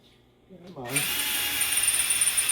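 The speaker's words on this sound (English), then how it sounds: "The way I do this is I just drill it out." An electric drill bores out the oil fitting on a Kawasaki 650 carburetor, starting after a brief low rumble and then running as a steady, loud, high whine for the rest of the clip, close up.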